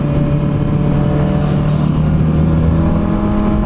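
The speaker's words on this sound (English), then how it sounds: "he's riding the Harley" Harley-Davidson motorcycle engine on a freeway, a steady, loud, continuous drone with wind and road roar filling the whole stretch, no voices.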